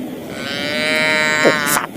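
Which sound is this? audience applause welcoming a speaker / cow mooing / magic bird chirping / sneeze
cow mooing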